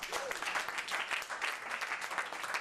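An audience at a hypnosis show in the Bahamas applauds. The clapping is dense and steady, heard at a moderate distance and slightly faint, with a few scattered voices mixed in.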